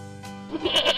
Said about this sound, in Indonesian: Kambing nang hilang.